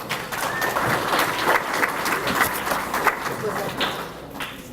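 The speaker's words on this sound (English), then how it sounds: "Let's give Xavier a round of applause, please." Banquet crowd gives a round of applause for an absent scholarship honoree, a busy spread of clapping hands that carries through with some voices murmuring underneath.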